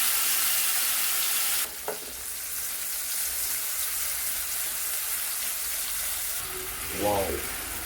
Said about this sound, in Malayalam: എന്നിട്ട് നമുക്ക് നെക്സ്റ്റ് മാഞ്ചി ഫ്രൈ ചെയ്തെടുക്കാം